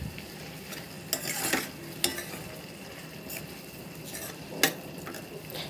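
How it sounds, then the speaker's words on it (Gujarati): A spoon stirs onion-tomato gravy with red chili powder in a pan for butter paneer, giving soft scraping strokes and a few sharp clinks against the metal over a faint sizzle. "પછી બધું આપણે મિક્સ કરી લઈએ।"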